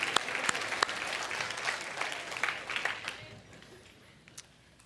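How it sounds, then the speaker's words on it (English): A church congregation at a Center for Spiritual Living service in Santa Rosa applauds loudly, a dense wash of clapping that fades gradually over the last second or two. "Give yourselves a round of applause."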